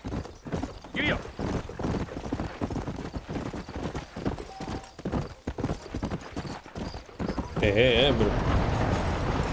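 Horse hooves clip-clop steadily in Red Dead Redemption as the rider sets off out of town, a continuous trotting rhythm mixed under game dialogue and a player's voice, with a brief whinny and rising music near the end.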